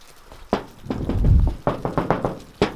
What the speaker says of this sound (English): Try tapping on the other side.